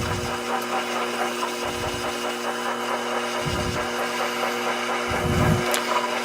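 A metal lathe cutting a groove and parting off a workpiece gives a steady mechanical hum and whine. Deeper thumps come back every second or so underneath it, with no talking.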